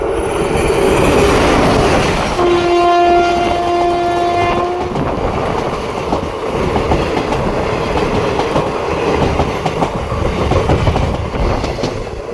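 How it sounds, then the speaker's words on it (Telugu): A train passing at speed near Madanapalle railway station sounds a loud, sustained horn for a couple of seconds. Close, heavy rumbling and clattering wheels follow as it rushes past, with no talk. "నా వెనకాల అయితే ట్రైన్ వస్తుంది, చూపిస్తాను చూడండి ఎంత స్పీడ్తో వస్తుంది"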